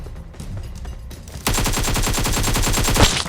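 Rapid automatic gunfire from an AK in PUBG Mobile rattles in a steady, loud burst after a quieter stretch of game ambience, shots firing in quick even succession.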